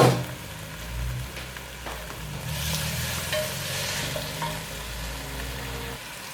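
Onions, ginger, garlic and fresh tomatoes sizzle in a pan for chicken biryani, a steady close frying hiss with occasional stirring scrapes and soft clinks, no talk.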